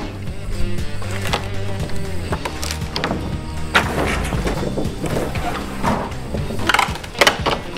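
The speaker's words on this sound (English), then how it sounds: "it's really easy to get a big long pry bar in, pry them off, and then just push them down" Wooden boards are pried loose with a long pry bar, giving repeated creaking, splintering cracks and sharp knocks of old timber over a steady rumble of machinery nearby, with no talking.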